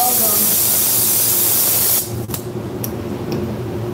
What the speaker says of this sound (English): I'm gonna be spraying my clear coat at 30 PSI.